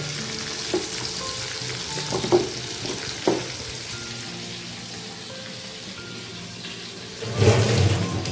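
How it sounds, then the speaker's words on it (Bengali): Pieces of katla fish fry in hot oil, a steady close sizzle and crackle running throughout with a few louder pops and a brief burst of agitated sizzling near the end; no talk. "আমি ততক্ষণে মাছগুলো ভাজতে দিয়েছি, বাকি মাছগুলো।"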